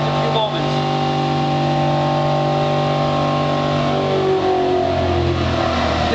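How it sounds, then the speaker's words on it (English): A Chevrolet 5.3 Vortec V8 runs on a dynamometer at a car show, its loud, steady engine drone holding close and constant while someone talks over it. "V8 engine from our Chevrolet Silverado, Suburban, Tahoe, and Avalanche."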